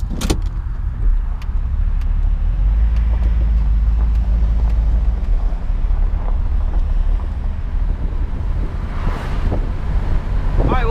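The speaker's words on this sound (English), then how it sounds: "All right, so let's go for a little drive here." 1973 Plymouth Barracuda out on a drive, with a deep engine rumble and road noise buffeted by wind, steady and close throughout with no talking.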